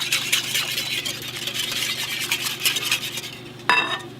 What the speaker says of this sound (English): you just want to mix that together a little bit to incorporate the milk and the eggs together